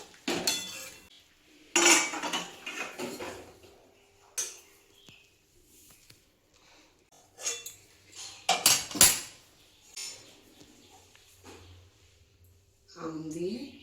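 Pot lid and dishes clink and clatter in several sharp bursts at close range while a thin bata fish curry with raw mango, mustard and poppy seed is covered on a kitchen stove, with quiet stretches and brief talk in between.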